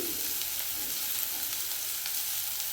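Beetroot frying in oil gives a steady, even sizzle that stays alone and fairly soft the whole way through, with no voices over it.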